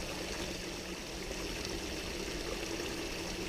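Water splashing from the spray bar of a Wilson Brothers trommel feeding a gold sluice, a steady close hiss of falling and trickling water, constant and moderately quiet with no voices.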